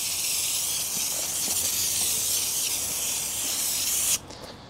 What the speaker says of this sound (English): just got this pump sprayer.